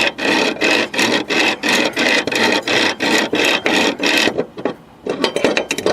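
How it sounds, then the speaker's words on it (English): A dry lawn-equipment pulley is worked back and forth on its socket, giving about a dozen close, even rasping strokes in a steady rhythm before a brief pause and a softer scrape. "I'm just moving that pulley back and forth on that socket"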